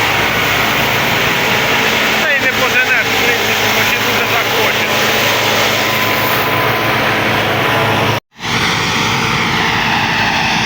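A John Deere 2264 combine harvester threshes wheat, its engine droning loud and steady close by as it moves slowly under light load, with a brief sharp cut in the sound near the end.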